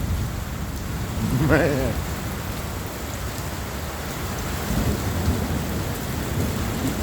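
Steady heavy rain with a low rumble of thunder during a thunderstorm in Phoenix, recorded from under a metal cover; someone speaks briefly over the downpour.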